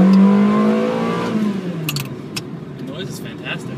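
A Ferrari 360 Modena engine revs hard nearby, a loud rising then falling whine with people exclaiming over it as the car pulls away.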